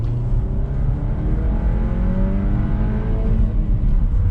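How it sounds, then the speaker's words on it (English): A car engine revs and climbs steadily under hard acceleration, held near the soft rev limiter, during a driver-assistance road trial. The loud, sustained tone rises gradually with no talking over it. "Soft rev limiter unless you're in race mode"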